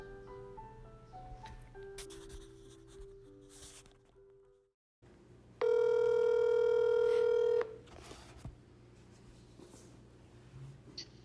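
A telephone being dialed: a string of short keypad tones beeps one after another, then after a brief gap a long steady ringback or dial tone holds for about two seconds before fading, all fairly quiet.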